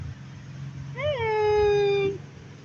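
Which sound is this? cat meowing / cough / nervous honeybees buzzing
cat meowing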